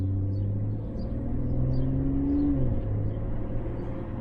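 A 2019 BMW M240i engine in Sport Plus mode revs steadily while driving, a loud continuous low rumble with a rising tone near the middle, heard from inside the cabin with no talking.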